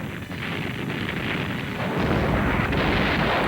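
A continuous roaring rush of Katyusha multiple rocket launchers firing, harsh and dense, growing heavier and lower partway through with no pauses.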